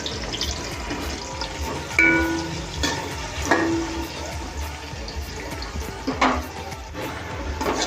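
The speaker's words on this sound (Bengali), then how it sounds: "তেলটা আমার গরম হয়ে গেছে, আমি পেঁয়াজ কুচিটা দিয়ে দিচ্ছি।" Chopped onion frying in hot oil in a pot, giving a steady broadband sizzle with a few louder crackles and clatters of stirring scattered throughout.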